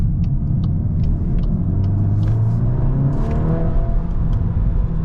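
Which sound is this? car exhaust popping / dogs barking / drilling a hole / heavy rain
car exhaust popping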